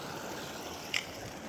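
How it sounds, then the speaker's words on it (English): A small waterfall in a wilderness stream gives a steady, close rush of flowing water with no pauses, and a brief brighter splash breaks through near the middle. "A little waterfall, always nice."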